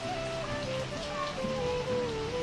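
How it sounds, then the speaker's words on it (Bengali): Rain falls in a steady, even hiss, with a faint tonal murmur running underneath. "কিভাবে করে বৃষ্টি পড়ছে দেখো"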